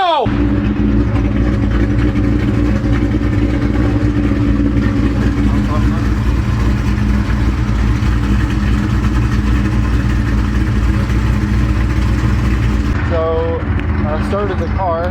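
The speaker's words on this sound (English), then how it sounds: "I started the car" A car engine idles steadily after being started, a loud, close, continuous low rumble with a constant hum, and a voice briefly speaks over it near the end.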